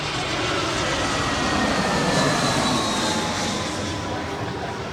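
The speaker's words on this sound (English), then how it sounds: "the best part of this place is the airplanes that fly overhead." A fixed-wing airplane flies low overhead on its landing approach near a San Diego spot, a loud, steady engine roar that holds for several seconds with little change.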